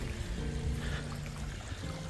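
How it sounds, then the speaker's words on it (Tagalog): Water flows through a stream in Port Jack Glen on the Isle of Man, a soft, fairly faint steady pouring and trickling murmur with no talking. "The water flowing through the glen"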